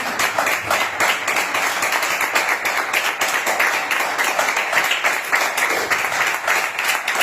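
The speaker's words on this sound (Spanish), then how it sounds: "No se le corte las palmas al Señor" A church congregation claps together during an evening Spanish-language sermon, a steady, dense wash of many hands sustained throughout, loud and continuous with no distinct pauses.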